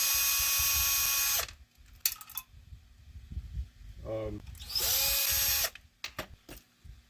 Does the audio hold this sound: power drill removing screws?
yes